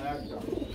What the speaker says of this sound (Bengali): আমরা কিন্তু আরেক জোড়া গ্রিজেল কবুতর দেখতে পাচ্ছি